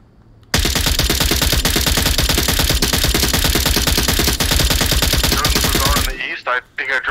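Rapid automatic gunfire in the VR shooter Onward during a league match, a loud sustained burst of rattling shots lasting several seconds before cutting off, followed by brief quieter sounds.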